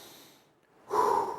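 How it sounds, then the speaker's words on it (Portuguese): A person takes one deep, audible inhale through the nose after a short pause, demonstrating the breath drawn before giving a rescue breath in first aid. "Então eu vou encher o meu pulmão e vou soprar para encher o pulmão daquele paciente"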